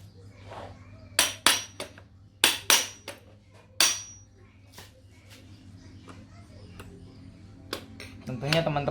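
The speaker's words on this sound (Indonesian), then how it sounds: "saya pakai palu lagi," Sharp metallic hammer taps on a steel push rod, driving out packed glasswool from a carbon motorcycle exhaust silencer, in a few close, loud clusters with quieter clinks between and a scraping shuffle at the end.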